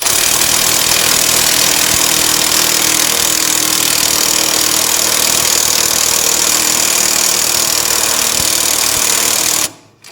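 A loud, continuous rattling impact wrench pulling a lug bolt through on a John Deere 757 zero-turn mower, hammering steadily for several seconds, close by, then stopping abruptly near the end.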